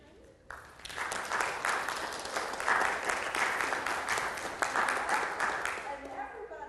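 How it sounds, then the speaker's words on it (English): A room full of people gives a speaker a warm round of applause after a talk on the ethics of belief, clapping rising suddenly, holding steady, then fading out near the end. "Let me suggest that we give Dennis another big round of applause for a very thought-provoking conversation."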